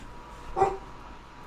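A big dog lets out a single short bark indoors, somewhat distant, over a low room hum.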